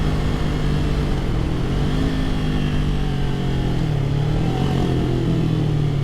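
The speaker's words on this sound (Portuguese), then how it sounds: "para tentar pegar mais o som da moto" Kawasaki Ninja motorcycle engine running steadily and loud up close, a continuous droning hum with slight shifts in pitch as the revs change, with no talking over it.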